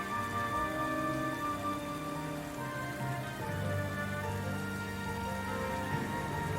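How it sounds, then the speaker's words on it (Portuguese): Steady rain patters down across a scene in the video game L.A. Noire, a continuous even hiss of drops on surfaces with faint tonal game ambience underneath. "Ah, lá, só porque eu falei que eu queria chuva. Choveu."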